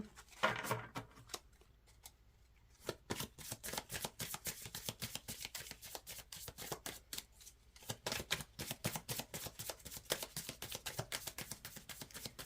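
A deck of spirit animal cards being shuffled by hand, giving rapid crisp riffling bursts and flicks that repeat in quick rhythmic runs, fairly close and quiet, with no voices.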